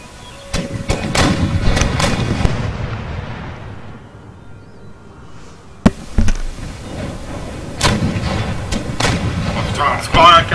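Musket volley fire in the video game Empire: Total War, a loud crackling burst of many shots followed by a sharp bang and scattered further shots, with people talking over it.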